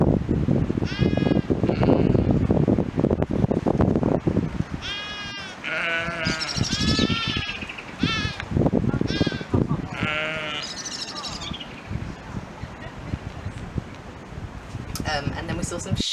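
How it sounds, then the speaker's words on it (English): Sheep bleat repeatedly in a countryside field, several loud wavering calls near the microphone, with wind buffeting and people talking between the cries. "And then we saw some sheep."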